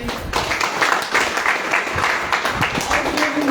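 An audience claps together in a steady burst of applause for newcomers at an IMC business products training session, the clapping filling the whole stretch with a voice faintly underneath.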